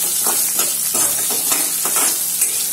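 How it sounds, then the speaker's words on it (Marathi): Onion sautéing in a pan with ginger and garlic for a besan capsicum dish: a loud, continuous sizzle broken by rhythmic scraping strokes as it is stirred. "आता याच्यात आपण कांदा टाकूया आणि कांदा पण आता व्यवस्थित आपण परतून घेऊया"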